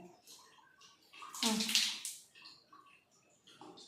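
Tap water gushes out in a loud burst for about half a second during a child's morning tooth brushing, surrounded by quiet background voices.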